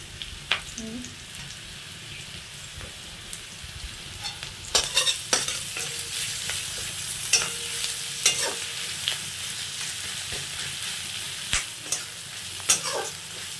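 Chopped onion and grated garlic fry in oil in a pan, a continuous low sizzle broken by sharp crackles and a few clinks of a spatula stirring, close and moderately loud with no voices.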